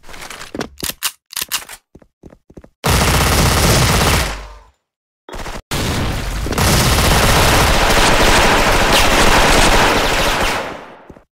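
Bolt Dual MP9 firing in the online shooter Special Force: a few short staccato bursts, then long, loud, continuous rapid automatic fire that cuts off abruptly, with a brief gap between strings.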